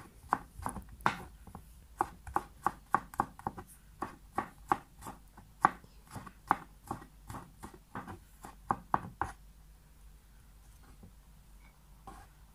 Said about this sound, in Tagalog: meron din po ako ditong ilang piraso ng bawang and atin po itong i-chop